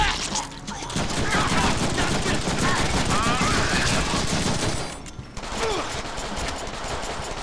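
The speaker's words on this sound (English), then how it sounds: "Now I have a machine gun." Sustained rapid machine gun fire in the Deadpool action video game, loud and continuous with dense overlapping bursts, a brief pause near the end, and combat noise around it.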